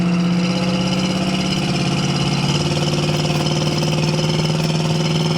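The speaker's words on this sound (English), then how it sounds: "Still sounds like a muscle car. It has a 351 Windsor." A 1970 Ford Mustang Grande's 351 Windsor V8 idles steadily with a deep, even rumble and slight lope, close and loud, with no voices over it.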